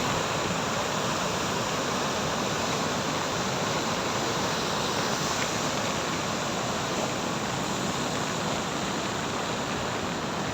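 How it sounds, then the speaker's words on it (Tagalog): Strong, steady roar of water rushing through a dam, a dense broadband torrent that holds constant and loud throughout with no voices. "Grabe oh, lakas ng dam tubig dito sa dam."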